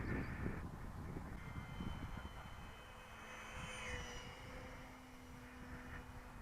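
A radio-controlled BAE Hawk model jet in Red Arrows livery flies just after launch, its steady whine and rush carrying on evenly with a faint rising and falling tone throughout.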